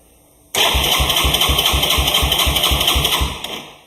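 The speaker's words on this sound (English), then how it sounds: "And we're going to hit the button, see if it fires up." Older Moto 4 ATV engine cranking with the choke on, firing up and chugging loud and near in a quick uneven rhythm for about three seconds before it sputters and dies.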